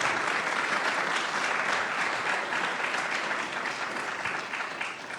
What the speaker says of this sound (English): give a big round of applause both to our competitors and also to our judges